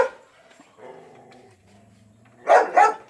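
Stray dogs make soft whines and low growls, then let out two loud, close barks in quick succession at the end.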